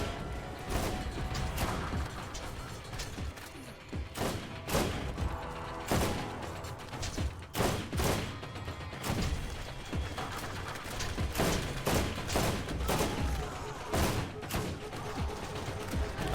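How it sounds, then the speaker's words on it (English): A turret in Borderlands fires missiles as a string of sharp, loud explosive bursts at irregular intervals over constant background game sound. "Something's still shooting me with missiles, but I don't know what."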